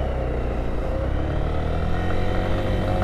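A 2022 Lifan KPR 200 motorcycle rides along, its engine droning steadily at a moderate pace with a low hum and a little wind rush, no voices heard.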